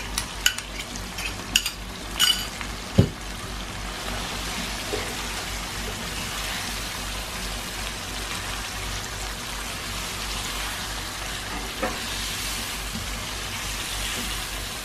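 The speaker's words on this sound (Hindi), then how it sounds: "इसी तरह फिर हम 5 मिनट फिर भूनते हैं" Masala for a quail karahi frying in a pan with steady, soft sizzling and occasional stirring clatter near the start, continuous and close with no talking.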